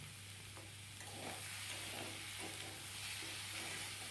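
Pumpkin, potato and Malabar spinach with salt and turmeric are stirred in a hot pan, a soft, steady sizzle with gentle rhythmic scraping strokes and a low hum underneath; quiet and close, no speech.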